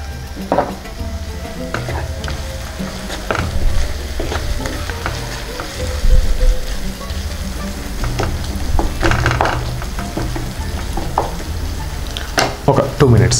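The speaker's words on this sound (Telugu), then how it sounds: "ఇది ఒక 2 మినిట్స్ మనం వేగనిద్దాం." Raw mango paste frying in a pan for a mango egg curry gives a loud, crackling sizzle with repeated spoon stirring and scraping, close up and continuous, no speech.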